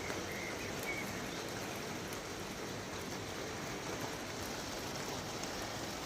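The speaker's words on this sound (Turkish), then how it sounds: "Yağmur yağdı." Rain pours on a flower garden with lawn during a summer thunderstorm, a faint, steady, even hiss of drops hitting plants and grass, continuous and unbroken with no voices.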